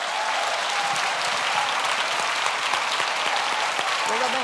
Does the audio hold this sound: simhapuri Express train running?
no